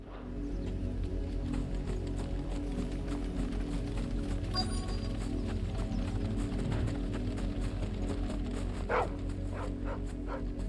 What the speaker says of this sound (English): Is that the dog?